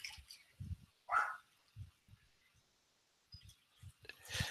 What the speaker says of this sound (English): I'm going to have to go put the dog in because she's just going to keep barking at our neighbors